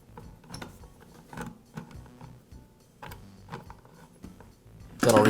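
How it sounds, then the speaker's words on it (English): A wrench loosens the nuts on the brake cover of an Echo chainsaw, giving close, intermittent ratcheting clicks and metallic knocks in short bursts, ending with a sharper louder rattle. "I'll loosen the nuts and also loosen the chain tension"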